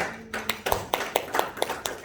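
Audience applause at a beauty and health class, a short burst of scattered hand claps at a fairly even rhythm, moderately close and not very loud.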